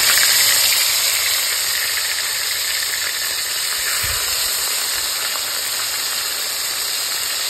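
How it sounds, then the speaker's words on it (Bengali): Fish sizzling in hot oil in a pan for a home-style Bengali fish curry, a steady loud hiss with crackle running unbroken throughout, no talking. "তেল গরম হয়ে গেছে, মাছটা ভেজে দেবো।"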